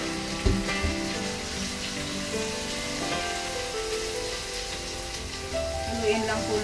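Pork liver fries in a pan with a steady, even sizzle throughout, a couple of faint knocks of the spoon near the start and a low hum underneath.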